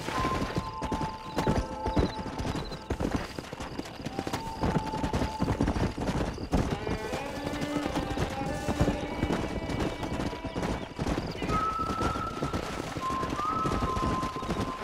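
Horses in the video game Red Dead Redemption on Xbox One: steady clip-clop of hooves with a few neighs and whinnies, close and continuous, with faint game music tones above.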